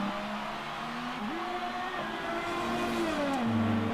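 McLaren race car engine in a racing video game, a steady high whine that climbs, shifts gear and drops, with a sharp downshift near the end, loud and close throughout.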